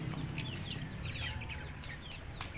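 Native chickens and chicks in a backyard flock cluck and cheep continuously at close range, with overlapping high peeps over a low clucking bed.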